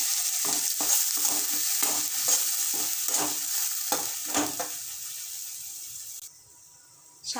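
Whole garam masala spices with cinnamon, cloves and cardamom plus onion, ginger, garlic and chili pastes frying for milk chicken korma, a steady close sizzle broken by repeated stirring scrapes, then quieting near the end.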